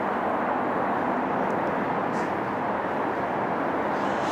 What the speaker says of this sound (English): This is for the Brazilians, Embraer E175 of Air Canada Espresso.